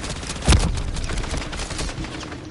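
A sharp burst of gunfire in MW3 Zombies, a Call of Duty zombies game mode, with a loud shot and then rapid, fainter rattling that fades over the next couple of seconds.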